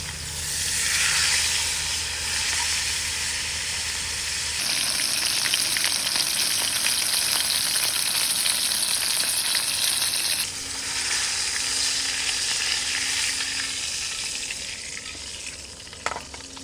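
Burger patties crisping in a pan give off a loud, steady sizzle and frying hiss that swells brighter midway, with a sharp clatter near the end.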